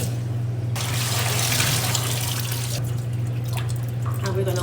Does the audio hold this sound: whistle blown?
no